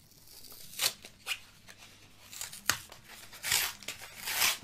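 Plastic wrapper of a Pokémon Silver Tempest card tripack crinkles and tears open, several sharp rips and rustles close up in a quiet room.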